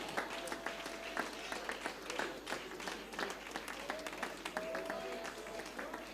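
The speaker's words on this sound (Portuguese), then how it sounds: "Dona a Dios un aplauso, iglesia" A church congregation in Bonaire applauds during a worship service, a faint, distant patter of many clapping hands that carries on continuously, with voices speaking over it.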